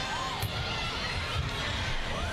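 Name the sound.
volleyball crowd cheering, UP fans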